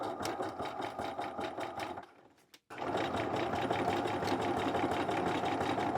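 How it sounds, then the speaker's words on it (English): A sewing machine runs a narrow zigzag stitch, attaching elastic to shiny satin trousers, with a fast close rhythmic chatter that pauses briefly, gives a single clunk, then resumes at a steady pace. "I've just got a very, very narrow zigzag stitch going."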